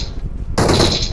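Gunfire from the battle royale game BGMI: a quiet lead-in, then a sudden loud burst of rapid shots close by that rings on briefly.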